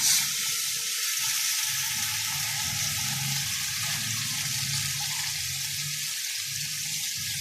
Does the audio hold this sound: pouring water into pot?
yes